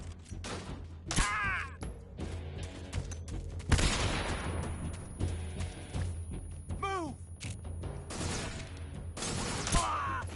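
Gunfire in Metal Gear Solid 3 HD, several sharp shots and bursts scattered over the stretch with thuds and mechanical game effects between them, and short whistling tones sweeping through the mix.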